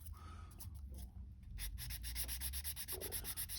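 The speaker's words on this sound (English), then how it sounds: "Just a bit more sanding." A sanding stick worked back and forth over the body of a 1969 Dodge Coronet Super Bee, giving faint, close rhythmic scratchy strokes that repeat quickly.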